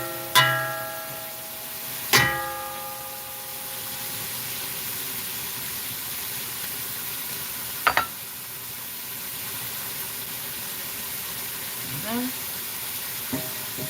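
Ingredients sautéing in a pan ahead of adding fish: a soft, steady low sizzle runs throughout, broken by a few sharp metallic clinks and ringing utensil taps.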